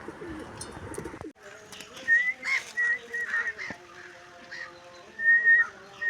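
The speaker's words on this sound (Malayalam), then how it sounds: "കണ്ടോ ഞങ്ങളുടെ ചോക്ലേറ്റ് പ്രാവിൻ്റെ കുഞ്ഞുങ്ങളെ?" Chocolate-coloured pigeons coo near their chicks, a series of soft, close whistling coos in short repeated bursts after a brief noisy rustle at the start.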